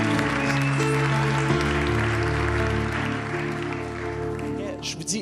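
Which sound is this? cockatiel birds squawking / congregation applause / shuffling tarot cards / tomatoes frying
congregation applause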